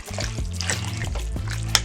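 Egg noodles go into simmering chicken noodle soup broth in a pressure cooker and are stirred, giving close sloshing and light splashing with soft trickles and a small splat near the end.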